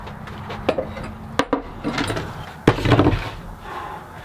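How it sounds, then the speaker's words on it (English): A steel axe is struck with a hammer to split a stubborn piece of wood while making a large hand-carved spatula: a few sharp metallic knocks spaced apart, with scraping and rubbing between the blows, fairly close. "it's back to the axe and a hammer to try to split this piece off"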